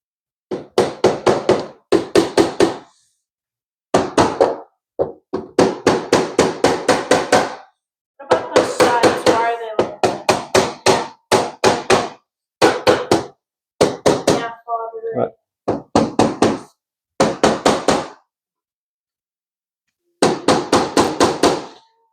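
A staircase bullnose is hammered into place with close, loud bursts of rapid knocks, each flurry of blows separated by short silent pauses.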